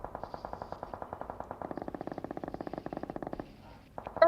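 Rapid automatic gunfire in the mobile battle-royale game PUBG Mobile, a steady stream of sharp shots for over three seconds, then a brief lull and a final short burst, loud and close.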